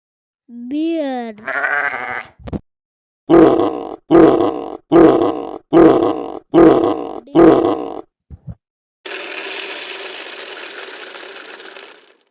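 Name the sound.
bear grunting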